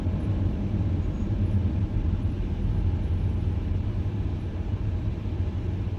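Steady road traffic near an exit of the Northern Ring Road in Riyadh, a continuous low rumble of cars and larger vehicles that holds at an even level for the whole stretch, with no talk.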